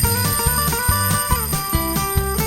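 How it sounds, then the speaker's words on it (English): Mechanical alarm clock with a small hammer beating the bell cup very rapidly, producing a bright, steady, continuous metallic ringing with a quick pulsing rhythm, close and loud with no voices. "And that's how an alarm clock rings."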